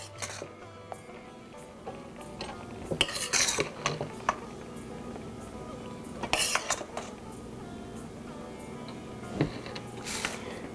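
Food being served from a pot with metal utensils onto a thali, with close clinks and scrapes of spoons against pots and plates, several sharper clatters standing out over a low background.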